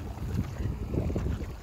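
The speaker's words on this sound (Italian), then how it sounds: "C'è un vento, tra l'altro, allucinante, si vola" Strong wind buffeting the microphone outdoors on Texel island near a windmill, a loud, continuous low rumble with gusty surges throughout.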